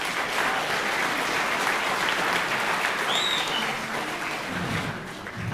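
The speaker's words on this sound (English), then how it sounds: "So a round of applause for all that they do." Audience at an elementary school spring concert applauding, a steady wash of many hands clapping in a large room, sustained for several seconds before tapering off.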